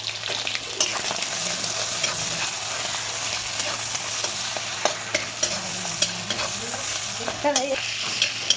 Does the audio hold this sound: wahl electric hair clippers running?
no